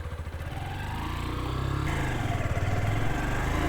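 A Zontes Monster 125 motorcycle's small single-cylinder engine runs nearby, its buzzing note climbing as the bike pulls away and gathers speed, with no talking.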